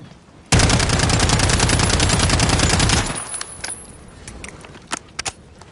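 Call of Duty gunfire from a rifle fitted with a muzzle brake: a loud, dense rapid-fire burst lasting about two and a half seconds, followed by scattered light metallic clinks and ticks.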